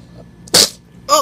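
Two sharp sneezes close to the microphone indoors, the first a loud burst followed by a shorter second one a moment later.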